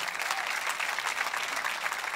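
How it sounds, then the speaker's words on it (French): A church congregation claps steadily during a service, dense sustained applause filling the room without pause for a couple of seconds. "Vous pouvez applaudir si c'est votre cœur avec moi ce matin."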